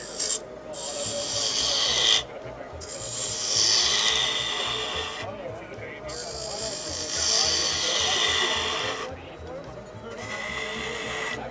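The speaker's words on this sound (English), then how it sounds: "to eliminate more material quicker, we're going to go to a 1/4 inch bowl gouge" Wood on a lathe is cut with a 1/4 inch bowl gouge while turning a lidded box. A close, rough, scraping rasp comes in long passes that break off briefly between strokes, with faint rumble underneath.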